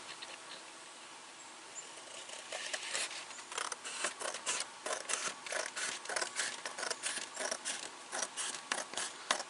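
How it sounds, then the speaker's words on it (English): Metal snips cut a rust repair panel of sheet metal for a 2000 Dodge Durango fender, giving a run of rhythmic crunching snips that grows louder and steadier, close up with no talk. "what we're going to do is cut that off"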